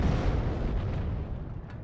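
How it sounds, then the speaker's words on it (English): Mortar barrage in Steel Division 44, a dense, continuous rumble of overlapping explosions with heavy low booms rolling steadily and loud throughout. "Mortar team barraging the unit."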